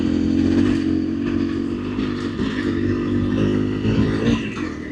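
A Honda CRF motorcycle engine runs steadily at close range, a continuous low rumble with slight shifts in pitch and some clatter as it rides along.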